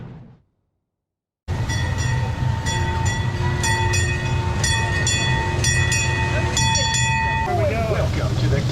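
A small cave train ride at the Santa Cruz Beach Boardwalk rolls along with a loud steady rumble, while bright tonal chimes and beeps ring out repeatedly over it, following a brief silence.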